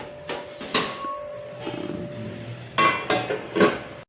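A lid is placed quickly on a pot of milk in a home kitchen: a few close metallic clanks and clatters, separated by short pauses, with a faint hum in the background.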